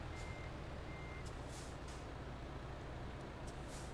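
Reversing beeps and a truck's handbrake in a truck-driving video game, a steady engine rumble with a brief hiss of air, then repeated high beeps pulsing at regular intervals.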